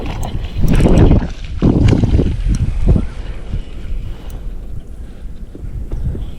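Strong wind gusting outdoors beside a creek, buffeting the microphone in heavy, rumbling surges that ease off toward the end.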